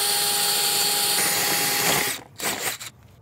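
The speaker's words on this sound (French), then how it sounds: "Il va nous rester à percer les deux panneaux pour nous faire une poignée." A drill bores holes in plywood panels for a hunting blind, a loud whirring buzz that runs steadily for about two seconds and then stops, followed by a couple of short bursts of clatter and handling noise.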